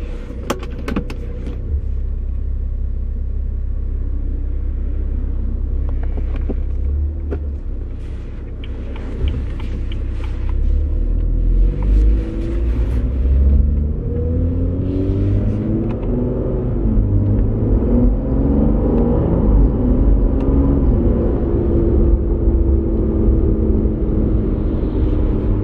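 A BMW F30 with a Bootmod3 transmission flash hums inside the cabin, engine rumbling loud and steady as revs rise and fall through manual gear shifts, no voices.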